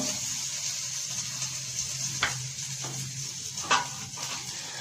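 Tadka of spices in hot oil sizzles steadily in a pan for moong makhni dal with boiled eggs, a continuous close hiss broken by a couple of brief sharp pops.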